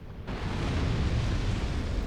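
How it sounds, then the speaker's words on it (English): A rumbling explosion in the video game Dark Souls 2 kicks in sharply and rolls on as dense, low, noisy roar for about two seconds, filling the mix with no speech over it. "I should have shot those guys first so they get pulled into the explosion."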